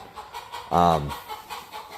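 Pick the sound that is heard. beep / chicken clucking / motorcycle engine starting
chicken clucking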